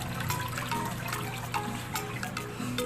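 Water cascading steadily between the chambers of an oscar and parrot fish tank filter, a continuous close trickling and splashing flow with no talk.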